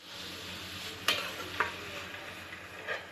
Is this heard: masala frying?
yes